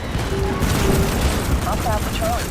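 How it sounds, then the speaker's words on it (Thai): Rapid gunfire rattles on in Starship Troopers: Extermination as a dense, continuous fusillade with booming under it, while someone talks over the shooting. "ยิงรัวไปด้านหน้าเดี๋ยว"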